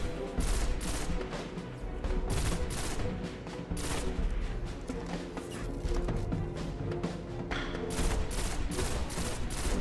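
Rapid bursts of gunfire from the Destiny video game crackle repeatedly across the whole stretch, dense fusillades with brief gaps, loud and up close with no talking.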